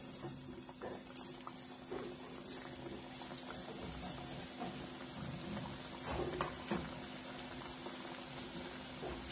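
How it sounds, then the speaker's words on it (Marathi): Samosas fry in hot oil with a steady, bubbling crackle, continuous and fairly quiet, with no voices over it. "आता याच्यामध्ये आपण हे समोसे सोडू."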